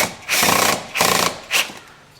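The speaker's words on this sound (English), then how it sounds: "Go ahead and tighten down your clamps." Three bursts of mechanical ratcheting as hose clamps are tightened on the EGR hose of a Mazda Protege, each lasting under half a second with short pauses between, close and fairly loud.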